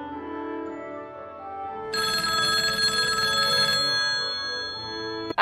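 A telephone rings on and on without being picked up, a bright trilling bell that begins after a low tonal passage and keeps buzzing steadily for a couple of seconds before fading back under the music, with no one speaking.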